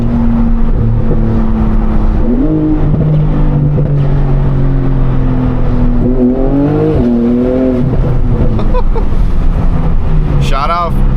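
A 1,000 hp turbocharged Audi R8 with an F1-style exhaust pulls hard at part throttle, its engine note climbing steadily through several upshifts. Someone talks over the loud, close drone.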